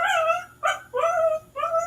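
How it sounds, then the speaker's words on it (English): An excited dog yelps and barks close up in four quick, high, whiny bursts separated by brief gaps. "dog knows what's up. He's excited."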